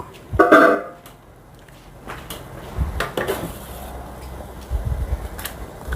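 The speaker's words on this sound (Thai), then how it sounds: "เราก็จะเปิดฝาหม้อ" A metal pot lid clanks as it lifts off near the start, followed by soft scraping and clinking of stirring in a large pot of simmering chicken curry.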